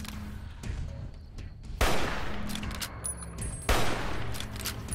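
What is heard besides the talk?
gunfire from a video game, Fallout New Vegas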